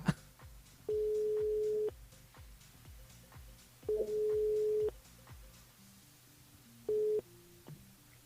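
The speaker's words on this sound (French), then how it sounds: "Allez, il appelle Emmanuel, on verra" A telephone ringback tone from a radio call-in show: three steady buzzing tones, each lasting about a second, separated by long pauses and heard clearly over a low background.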